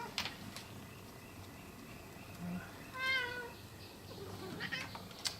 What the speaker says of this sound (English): And my cat's here to help me.